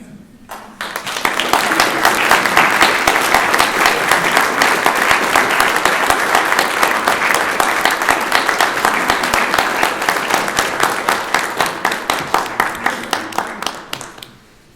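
Sustained audience applause fills a graduation reception hall as a Student of the Year honoree's family stands, the dense clapping loud and steady for about fourteen seconds before tapering off at the end.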